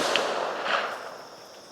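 A single AR-15 can cannon shot fired outdoors at a range, a sharp report that rings on in a long fading tail.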